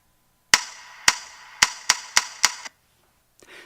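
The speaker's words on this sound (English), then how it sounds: "This is what the count off sounds like." A count-off in the ScatAbility music app plays six sharp, evenly spaced clicks, loud and close against silence, followed by a faint brief rustle.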